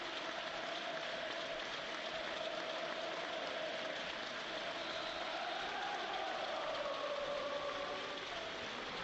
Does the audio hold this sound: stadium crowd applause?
yes